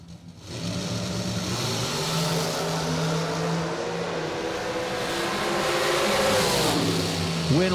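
Blue dragster at a drag strip, engine roaring steadily loud and close through the run, rising in pitch toward the end, with crowd and track noise around it.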